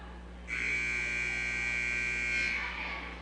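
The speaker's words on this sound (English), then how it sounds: "Buzzer sounds." A long, steady electronic gym scoreboard buzzer at a high school volleyball match blares for about two seconds over a low background hum, then cuts off.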